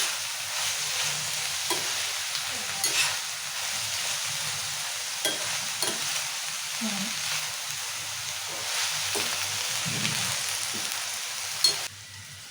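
Fenugreek leaves sizzle steadily in a hot frying pan for a tomato fenugreek curry, with a spoon stirring and scraping at intervals.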